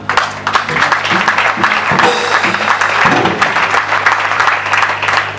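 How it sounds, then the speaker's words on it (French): Clapping rises from a gathered audience at a memorial event for the late UDPS leader Frédéric Kibassa Maliba: a dense, fairly loud burst of applause over a low steady hum. "Si j'étais à votre place, j'allais applaudir."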